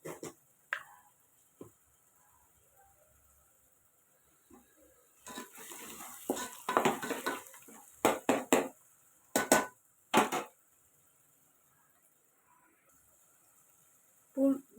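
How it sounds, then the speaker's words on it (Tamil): Onions sautéing in a pan for a brinjal and drumstick kara kuzhambu, with several clustered metal scrapes and clinks from stirring and a soft sizzle between them. "வெங்காயம் லேட்டாக வதங்குது"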